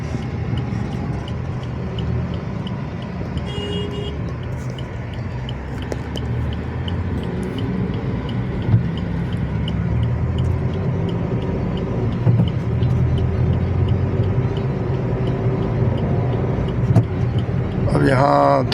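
Steady traffic noise on the Vadodara expressway approach where a jam begins, cars and heavier vehicles rumbling continuously nearby with a voice talking over it.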